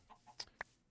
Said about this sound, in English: Anyway, we've got some chickens here.